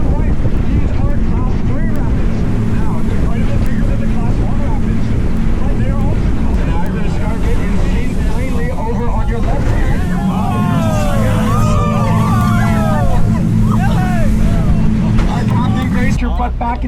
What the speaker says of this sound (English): these are Class 3 rapids